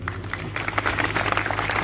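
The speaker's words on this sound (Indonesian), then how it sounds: "Tepuk tangan dulu Lumajang." An audience in Lumajang claps and cheers at a poetry discussion event, a dense, steady patter of applause lasting the whole short stretch, fairly close and continuous.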